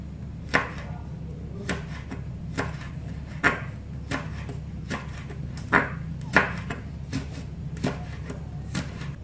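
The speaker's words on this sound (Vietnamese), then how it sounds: "Ớt mình sẽ thái lát." A knife slices chili peppers on a cutting board in a home kitchen, producing about a dozen crisp, close taps at an uneven, unhurried pace over a low background hum.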